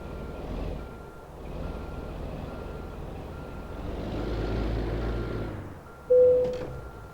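An eighteen-gear semi truck in American Truck Simulator reverses into a parking spot, its low engine rumble swelling and easing under a steady reversing beep, ending with a sharp hiss like an air brake release; no voices.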